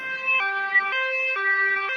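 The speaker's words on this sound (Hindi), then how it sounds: "एम्बुलेंस लाडो को लेकर अस्पताल की तरफ निकल पड़ती है।" A cartoon ambulance siren wails in a steady two-tone pattern, alternating high and low pitches in even steps, loud and clean with nothing else over it.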